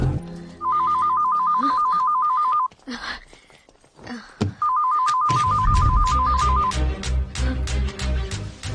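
A phone ringing in a tense thriller movie scene, two bursts of a loud warbling electronic ring with a pause between, followed by dramatic background music.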